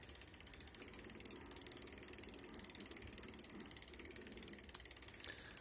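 Pedal assist on an Arduino-controlled e-bike engaging as pedalling starts, a rapid even ratcheting click from the freewheel mechanism running steadily throughout, faint and close with no voices.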